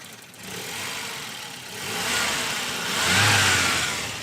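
A Volvo 240 engine runs close by and swells through a few slow revs, the roar rising in waves over a steady hiss.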